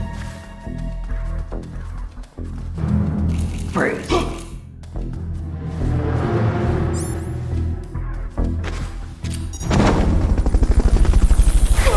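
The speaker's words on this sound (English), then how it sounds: "recovering a helicopter is complete." Helicopter in the video game Metal Gear Solid: Peace Walker, amid gunfire and thuds, with the rotor's loud, rapid, steady chopping rising strongly in the final seconds; voices talk over much of it.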